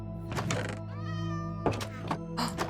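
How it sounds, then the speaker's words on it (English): Cat meowing in Minecraft: two drawn-out, close meows with a soft thunk, a rising tonal sweep between them, and a steady low hum beneath. "I heard a cat."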